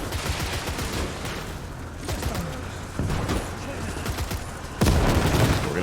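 Gunfire and booms in the WW2 video game Call to Arms during the defense of Leningrad, where a PaK anti-tank gun fires 3.7 rounds. Continuous distant and mid-range shooting with several heavier blasts, under someone talking.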